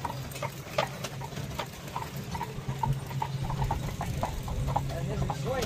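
Hooves of a horse pulling an Amish buggy clip-clop in a steady, even rhythm along a rural road, moderately close, with a low hum of a moving vehicle running underneath.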